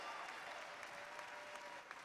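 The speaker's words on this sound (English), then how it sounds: "Audience, I think they deserve a bigger clap. Come on, make it very loud." Sustained audience applause at a spring university commencement ceremony, a steady wash of many hands clapping filling the hall without pause.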